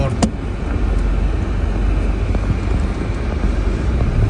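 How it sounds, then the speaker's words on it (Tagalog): A 2024 Mitsubishi Triton pickup truck on a test drive, heard from inside the cab as a steady, loud engine and road rumble that continues without a break. "test drive natin yung Mitsubishi Triton 2024"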